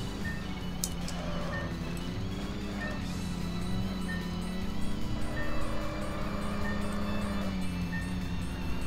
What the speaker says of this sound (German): unser Wagen hört sich halt wie ein Rasenmäher an